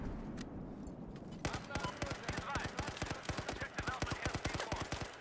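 Rapid automatic gunfire in the video game Battlefield 4, fired in long, evenly spaced bursts of sharp cracks that begin after a quieter opening second, with a few faint isolated shots before it.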